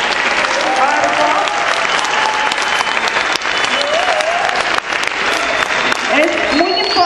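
A school audience at the Colegio Pillicao in Jiutepec applauds after a talk on money and sustainability, with loud, dense, continuous clapping from many people and scattered voices and whoops mixed in.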